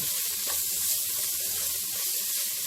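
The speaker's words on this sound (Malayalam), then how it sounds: "അതിലേക്ക് 1 ടേബിൾ സ്പൂൺ കുരുമുളക് പൊടിയും അര ടീസ്പൂൺ ഗരം മസാലയും ചേർത്ത് നന്നായി വഴറ്റുക." Sliced onions sauté in a pan with black pepper powder and garam masala, giving a soft, steady sizzle and hiss that runs evenly throughout, close and fairly quiet, with no talking.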